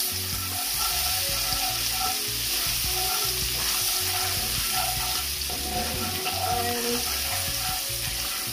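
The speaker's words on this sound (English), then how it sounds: "now I'm going in with my garlic and my ginger. I'm just going to saute these for about 2 minutes" Garlic and ginger sauté in a pan, crackling and sizzling steadily and loudly, while a utensil scrapes and stirs them in repeated strokes.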